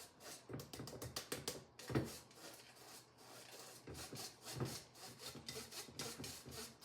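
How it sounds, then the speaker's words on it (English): Lumpy dry ingredients for an eggless chocolate cake pushed and rubbed through a sieve, giving repeated scratchy rasping strokes in quick bursts, close and fairly quiet, with no talking. "Sift it up here. I'm going to help it along. It's that lumpy."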